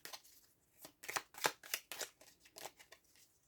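A deck of cards being shuffled and cut, a run of quick crisp riffling bursts in an uneven rhythm, close and fairly quiet with no talk.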